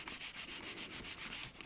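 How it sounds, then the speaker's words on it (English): Fine sandpaper rubs back and forth across the plastic windshield of a 1974 Hot Wheels Super Van toy, a close, even rhythmic scratching with about a dozen quick strokes and no talking. "Now with plastic, you don't want to use any sandpapers lower than about 320."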